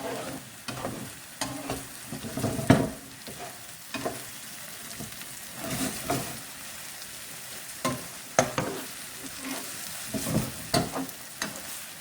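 Eggs fry in a pan while being broken up and turned for an egg stew: a steady close sizzle with repeated spatula scrapes and knocks against the pan.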